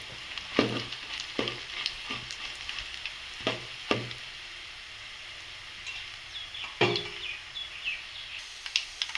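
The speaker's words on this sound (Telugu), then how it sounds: "కోపు గింజలు కూడా వేగుతున్నాయండి" Mustard seeds and chillies frying in hot oil for a bitter gourd fry, a steady soft sizzle broken by sharp popping crackles and a few spoon clinks and stirs, close by with no talk.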